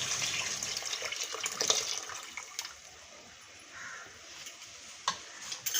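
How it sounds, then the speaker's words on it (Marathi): Water is poured into a pot of Maharashtrian katachi amti, a dal curry, making a continuous splashing pour that is loud at first, then quieter and steady, with a couple of brief knocks near the end. "आता आपण हे उरलेलं सगळं पाणी टाकून देऊयात"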